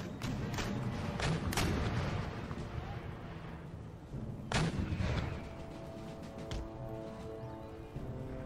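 Howitzer artillery fire rings out in the strategy game Empire Total War, with several sharp booms and thuds rolling out over a battlefield din, one blast standing out mid-way, while a voice talks faintly beneath.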